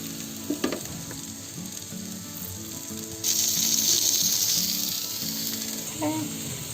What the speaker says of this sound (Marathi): बोंबील फ्राय करून घ्यायचे आपल्याला ह्याच्यात.